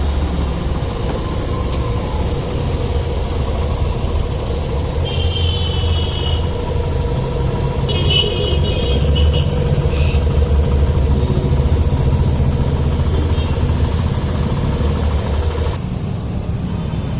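A Hero Passion Pro BS6 motorcycle engine runs with a steady low idle rumble, close and fairly loud, with brief higher-pitched mechanical whines partway through and no voices.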